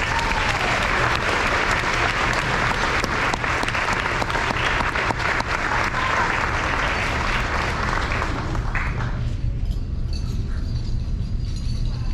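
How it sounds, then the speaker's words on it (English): Dense, loud applause from an audience at a high school senior awards ceremony, sustained for most of the stretch before thinning out near the end. "Let's give a round of applause to the students."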